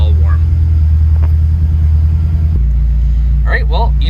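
All-wheel-drive Acura RSX engine idling as it warms up, a loud, steady low rumble whose tone drops and settles partway through, with a voice speaking over it near the end.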